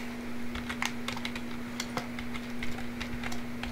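Fast, light clicking of computer keys typed in irregular bursts, close and fairly quiet, with a faint steady hum underneath.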